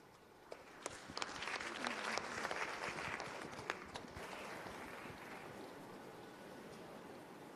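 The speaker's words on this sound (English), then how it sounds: "Another round of applause for the panel and their moderator." A conference audience at an ICT event in Tanzania applauds its panelists and moderator, with quiet clapping that swells, holds steady, then softens, and a few sharper claps standing out.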